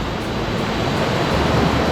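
Mountain water rushes over large rocks in a constant, loud, close wash of broadband noise with no pauses and no talking.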